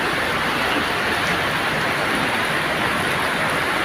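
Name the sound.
heavy rain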